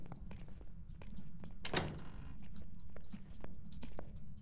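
A door in the ghost-hunting game Phasmophobia opens and closes with a single muffled thunk. It is quiet and set against faint low background noise.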